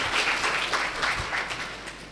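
Audience at a meditation camp at an ashram in Surat applauding, a short burst of dense clapping from a moderate-sized crowd that tapers off slightly toward the end.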